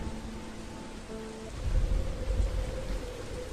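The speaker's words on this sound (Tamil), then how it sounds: "அம்மா, வெளியில ரொம்ப மழை அடிக்குதே, நாம நனைஞ்சிடுவோமே." Heavy rain pours down in a dense, steady hiss, swelling into a deeper low rumble partway through like distant thunder, with a faint tonal hum in the first half and no speech.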